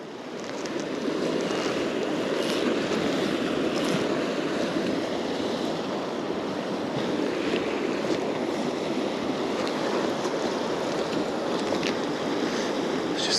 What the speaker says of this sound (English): The river's got a much nicer flow on it.